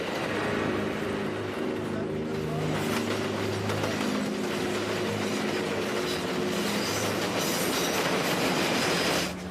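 A subway train runs near Yankee Stadium, a steady loud rumble with rail clatter and some wheel squeal, building across the clip as cars roll past.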